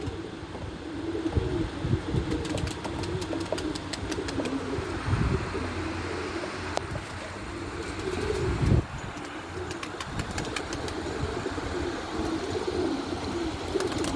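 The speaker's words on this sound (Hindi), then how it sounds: "ये बैठा हुआ है जी कबूतर।" A perched pigeon coos softly and steadily against a constant background hiss, with a few louder thumps along the way.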